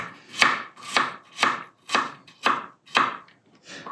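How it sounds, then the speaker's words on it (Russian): A knife chops three garlic cloves on a cutting board in seven even, sharp strikes about half a second apart, crisp and close with no talking. "Нарезается 3 зубчика."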